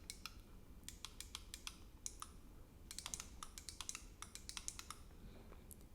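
Rapid clicking of a game controller's clicky D-pad, a dense run of small sharp taps close to the microphone in a quiet room, in irregular quick bursts with no talking.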